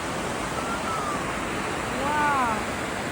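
Rushing water of Morton Waterfalls near Campbell River, British Columbia, a fast-flowing falls heard from a bridge, a steady broadband roar throughout with brief faint whistling tones near the end.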